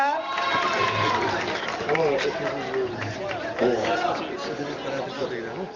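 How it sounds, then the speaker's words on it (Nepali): A crowd claps continuously at a volleyball prize ceremony, a dense wash of applause under a loud announcer's voice and crowd chatter, steady throughout. "मन्दिर छेउबाट ताली फेरि सुरु भइछ"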